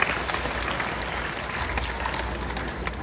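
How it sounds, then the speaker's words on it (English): Guests at an outdoor bird show at Disney's Animal Kingdom applaud a volunteer, a brief burst of dense, fairly loud clapping from a crowd. "How about a round of applause for Taysom,"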